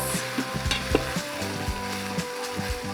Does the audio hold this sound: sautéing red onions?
yes